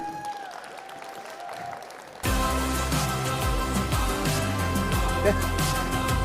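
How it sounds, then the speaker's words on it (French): Conference audience bursts into loud, sustained applause to welcome speakers onstage, after a quieter stretch of room tone. "J'ai le plaisir d'accueillir Théo Scoubla et Elisabeth Moreno sous un tonnerre d'applaudissements cette fois-ci."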